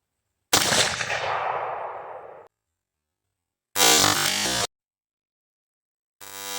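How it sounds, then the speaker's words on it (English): An AR rifle firing cast lead 5.56 at an outdoor range, heard as a few loud, sharp bursts separated by silent gaps. "Test shot."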